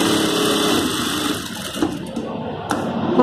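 Sewing machine stitching darts on a blouse, a steady close mechanical whir that runs throughout with slight dips in the middle and brief clicks near the end.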